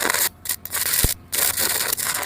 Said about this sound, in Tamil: வெறுங்கம்பியில் வெல்ட் அடிக்க சொல்லிட்டீங்க ஒட்டுது